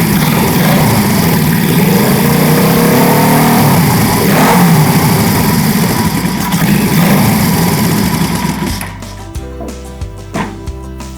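A cafe racer motorcycle engine runs and revs loudly and steadily close up for about nine seconds, then drops to a rough, uneven idle with mechanical clatter.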